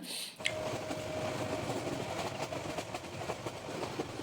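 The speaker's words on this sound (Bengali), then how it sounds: "আমাদের ট্রেনটা কিন্তু বেশ জোরে সরে কিন্তু ছুটে চলেছে" A fast-moving passenger train on the Kishorganj to Dhaka route in Bangladesh, heard from on board as a steady loud rumble with faint rail clatter and a brief squealing tone near the start.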